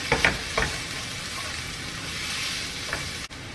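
Chopped onion frying in a pan over medium heat gives a steady, soft sizzle throughout, with a few brief scraping stirs near the start and one near the end, alone and close by.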